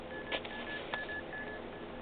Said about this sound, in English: it's beeping because that's a high potential radiation detected